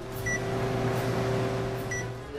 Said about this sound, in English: heating the drink in the microwave for 20 seconds to make sure it was piping hot